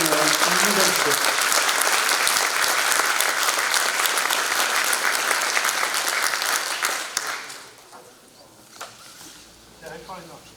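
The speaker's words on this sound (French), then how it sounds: "Je vous propose de les applaudir une nouvelle fois." Audience at a town council installation ceremony in Lys-lez-Lannoy applauds loudly and steadily, a dense wash of many clapping hands that fades out near the end, leaving a few scattered claps and quiet room noise.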